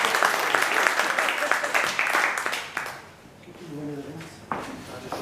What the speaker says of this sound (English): Think a round of applause.